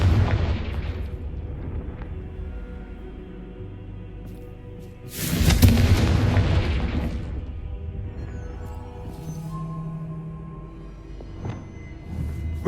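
A Confringo fire spell in Hogwarts Legacy bursts into one loud, broadband explosion midway, with duller game thuds and ambience before and after it.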